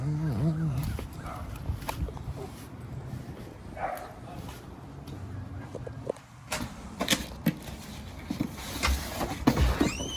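A dog yaps and whimpers in short bursts, mixed with street noise and people talking nearby. The yips come from close range and are scattered through the stretch.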